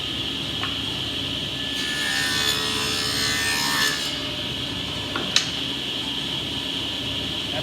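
A saw blade about 1/8 inch wide cuts overlapping kerfs for a drawer-bottom groove in wood, giving a steady rasping, whining cut that swells for a few seconds then drops back, with a sharp knock near the end.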